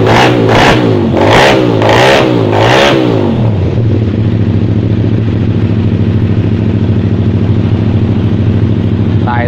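A two-cylinder Honda Tiger motorcycle with a touring tune is revved hard in about four quick throttle blips, then drops back to a steady, loud idle close by.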